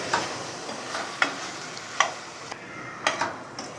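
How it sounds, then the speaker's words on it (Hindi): Ground spices including coriander sizzling and being stirred in a hot pan, with soft crackling and a few sharp scraping clicks from a utensil. "अब इन तमाम मसालों को शामिल करके हम इस तरीके से भून देंगे।"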